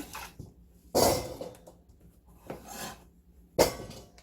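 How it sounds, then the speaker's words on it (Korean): Knife cutting radish into small cubes for kkakdugi, with a few sharp chops against a board, two loud strikes standing out among quieter scraping and tapping. "깍둑 썰기로 그냥 해주세요"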